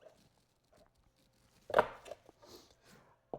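A heavy Dalstrong Obliterator cleaver chops through chicken wings for Korean BBQ wings: a few loud, sharp, separate thwacks spaced over a couple of seconds, with quiet gaps between strikes.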